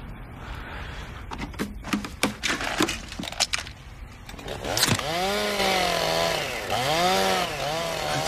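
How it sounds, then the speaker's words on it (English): A chainsaw starts with a run of sharp cracks and pulls, then roars up and revs in wavering surges. It is loud and close, with no talking. "I thought I told him to bag that chainsaw."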